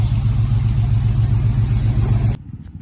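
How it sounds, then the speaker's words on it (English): A 1975 Chevy LUV pickup swapped with a small block V8 runs loud and close, its engine idling with a steady rumble and timing chain noise, then cuts out abruptly near the end. "It does have a timing chain noise that is getting torn apart in the next couple weeks to get fixed."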